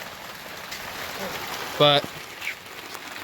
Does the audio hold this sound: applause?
no